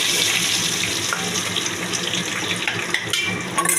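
Water poured into a cooking pot while making tangra fish curry with bori, a steady close splashing rush with no talk.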